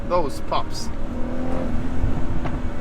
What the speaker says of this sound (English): Those pops.